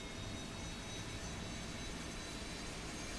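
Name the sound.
Harrier jet engine throttling up in War Thunder video game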